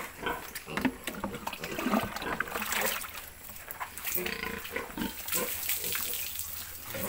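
Pig on a farm, grunting and snuffling close by while its belly and teats are washed, with running water and splashing mixed in and people talking nearby.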